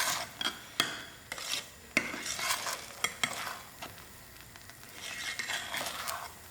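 Cardamom powder gets stirred into thick halwa in a pan: a spoon scrapes and clacks against the metal at irregular moments over a soft, continuous sizzle.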